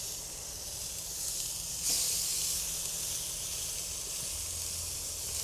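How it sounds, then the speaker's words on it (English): Steaks sear with butter on top on a Blackstone griddle, giving a steady broadband sizzle and hiss with a brief louder flare partway through. "Let's throw some steaks on here, see what happens."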